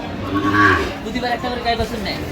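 A Sahiwal breed calf at a cattle market in Cox's Bazar gives a low, brief moo amid nearby voices and crowd noise.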